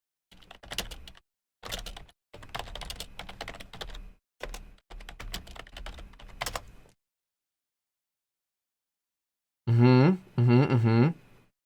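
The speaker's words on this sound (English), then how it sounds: "Keyboard ASMR." Bursts of rapid clicking from computer keyboard typing, several separate runs of keystrokes with short gaps between them, followed by a long silence and then two loud harmonic blips that are not typing.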